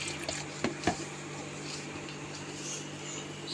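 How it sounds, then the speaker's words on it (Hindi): Water pours into gram flour to make batter for missi roti in a home kitchen, a soft steady splashing under a few faint clinks near the start. "बस इसमें पानी डालेंगे और बैटर बना लेंगे।"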